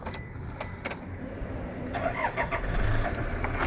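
A Toyota Hilux with a faulty Cobra remote alarm cranks and catches, the engine starting faintly after a couple of clicks and settling into a low mid-pitched idle near the end, with no speech.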